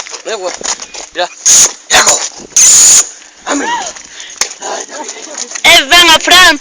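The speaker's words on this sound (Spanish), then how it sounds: "Fran, presenta al perro" A dog barks in loud, sharp bursts, several close together, mixed with people talking and shouting nearby.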